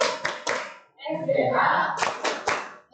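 Children in a classroom clap chant give rhythmic groups of sharp hand claps, loud and close, with chanted voices between the claps.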